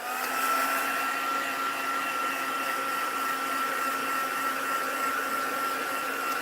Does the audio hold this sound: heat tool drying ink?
yes